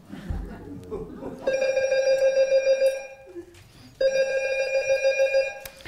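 A telephone bell rings in two long, steady electronic bursts separated by a short pause, loud and close, with a voice at the start.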